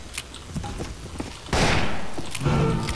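Small guns fire in the western shooter Fistful of Frags, a burst of loud gunfire around the midpoint followed by another volley, with scattered thumps and clicks before.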